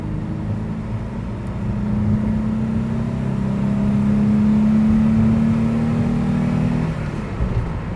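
A 1996 Renault Espace II with a V6 engine accelerating, heard as a steady, fairly loud low drone with a rising tone that builds over several seconds and holds, with no talk over it.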